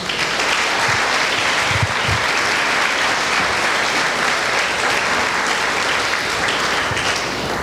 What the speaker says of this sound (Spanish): Y también un aplauso para estos pequeños.